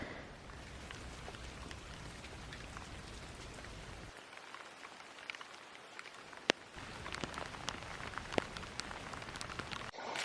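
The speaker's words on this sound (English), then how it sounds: "How much has it rained, Santi?" Steady rain on a homestead in Spain, a dense hiss of drops pattering on surfaces with a few sharper close taps, continuous throughout and briefly thinner midway.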